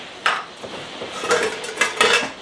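A metal simmer ring set down over the burner of a Trangia methylated-spirit alcohol stove from an ex-Swedish army cooking set, giving four sharp, close metallic clinks and rattles spaced unevenly, with no talking.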